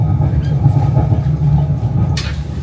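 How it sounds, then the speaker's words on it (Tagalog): Riding inside a train bound for Hallstatt, Austria, a steady low rumble and rolling rhythm of the carriage fills the clip, with a brief higher squeal or hiss near the end. "Ito na guys, ang ating train! Nakasakay na tayo sa train"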